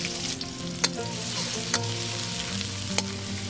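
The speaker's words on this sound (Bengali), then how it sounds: "এখন আবারও কড়াইতে তেল দিয়েছি, সেই সাথে দিয়ে দিচ্ছি পেঁয়াজ কুচি" Chopped onions fry in oil in a wok with a steady, close sizzle. A utensil stirs and scrapes the pan in a few sharp clicks. No one speaks.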